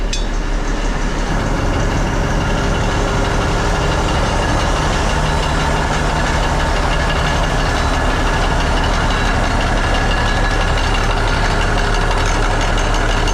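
A tractor engine idles steadily and loudly throughout, a constant low rumble with a faint knocking pulse and no voices.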